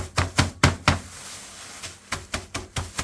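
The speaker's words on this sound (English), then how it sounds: "you're just going to tap those to break the biscuits into crumbs" Rolling pin tapping a bag of biscuits on a chopping board into crumbs, a series of sharp thuds in two bursts of about four blows each with a short pause between, close and distinct.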